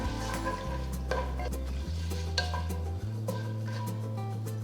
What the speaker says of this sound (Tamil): 1 டேபிள் ஸ்பூன் நெய்யும் சேர்த்து பட்டை, கிராம்பு, ஏலக்காய், அன்னாசிப்பூ, பிரியாணி இலை, ஜாவித்ரி, 1 டீஸ்பூன் சோம்பு சேர்த்து நல்லா வறுத்துக்கலாம்.